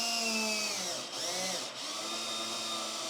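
A power drill drives screws into a sauna wall, its whine close and steady, briefly dipping twice in pitch as it bears down on the screw, with no voices.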